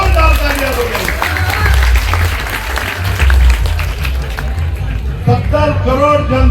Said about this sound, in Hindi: हमारे योगी जी और मोदी जी के लिए एक बार जोरदार तालियां बजाइए।